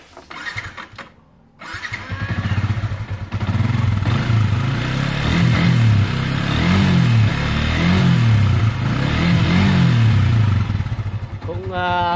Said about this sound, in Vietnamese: bây giờ mình nổ máy thêm tí cho nó nóng đi